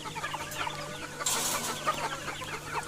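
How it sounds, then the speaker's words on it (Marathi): Red country hens of a traditional Konkan village poultry flock cluck in short, repeated bursts, fairly close, with a rooster-like call now and then and no talk. "ही तांबडी कोंबडी"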